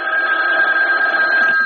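A telephone bell rings in a radio drama, a loud continuous electric ring held steady for the whole moment, alone without speech.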